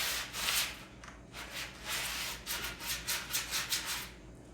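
Hands rub back and forth over a rough, gritty skateboard grip surface, producing repeated scratchy swishes that quicken toward the end, close and fairly loud.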